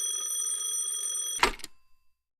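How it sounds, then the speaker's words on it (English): An old-time radio drama telephone rings a steady, continuous high bell tone that cuts off abruptly as the receiver is picked up with a clattering knock, then falls silent. "That is my telephone ringing, isn't it?"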